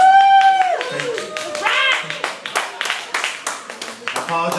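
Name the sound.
applause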